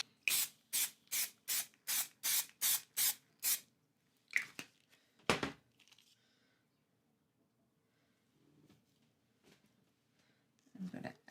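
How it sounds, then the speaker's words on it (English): Spray paint hisses through a stencil onto an art journal page in a quick series of about nine short, sharp bursts, followed by a few scattered sprays and rubbing sounds, close and alone. "The other options can come with another color of spray paint."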